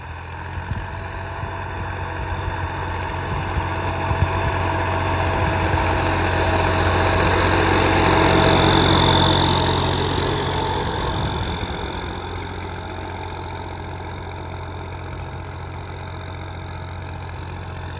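An IMT 533 tractor engine runs during zero-drill wheat seeding, a steady low diesel drone with a knocking idle character that swells louder midway then settles, with no talk over it.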